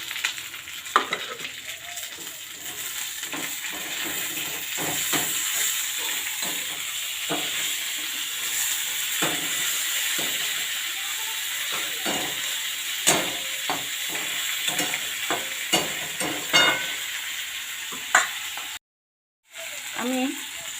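Pre-fried hilsa fish pieces go into a pan with nigella seeds for mustard hilsa, making a continuous close hissing sizzle with scattered crackles and clicks throughout, briefly cutting out near the end.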